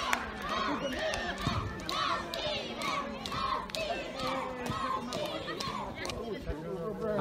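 Spectators at a memorial amateur football match at the stadium in Chiaravalle Centrale make a steady crowd noise, cheering and calling out. Talk runs over it throughout.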